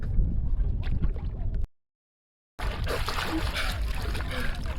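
Splashing water as a person ducks under, in a playful bet, heavy sloshing and splatter with voices, then a short silent gap before louder churning splashes resume.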